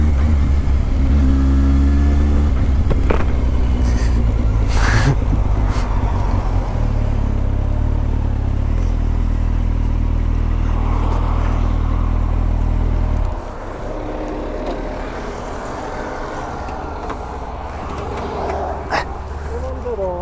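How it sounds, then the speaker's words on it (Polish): A Kawasaki Z750 motorcycle engine, a loud steady drone while riding that drops to a lower idle partway through, with someone talking over it. "szybki podjazd pod Marcina i, i jedziemy dalej"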